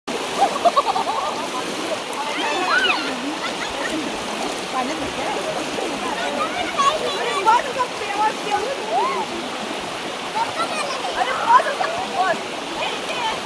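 A fast-flowing river, swollen after heavy rain upstream, rushes and splashes in a continuous, fairly loud wash of water with scattered brighter splatters.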